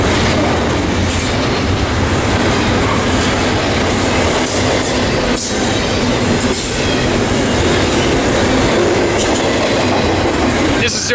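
A heavy freight train passing at about 40 miles per hour at Fullerton, a loud, continuous roar of wheels and cars with rhythmic clacking and faint squeals, close throughout.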